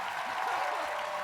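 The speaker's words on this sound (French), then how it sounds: "On les applaudit!" A studio audience at a Quebec television entertainment show applauds, a dense burst of clapping with faint voices mixed in.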